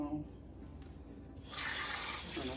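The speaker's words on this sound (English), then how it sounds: "turn the water on here" Water from a kitchen tap switches on abruptly partway through, a loud steady close rush following a quieter stretch with faint background noise.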